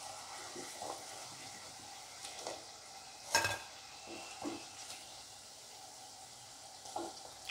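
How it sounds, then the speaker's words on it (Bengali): Crispy garlic potato cutlets fry quietly in a pan, a soft low sizzle broken by occasional clinks and scrapes, one sharper knock near the middle, with no voices. "সবগুলোকে একটু ভেজে নেব"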